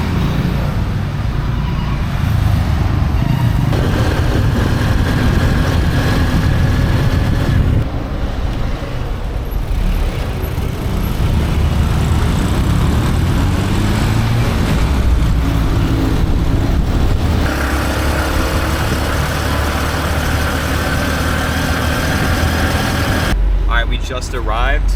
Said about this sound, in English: being on those motos is an adrenaline rush because you feel like your life is on the line the entire time